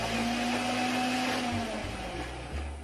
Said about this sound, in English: the rev up time and the rate of fire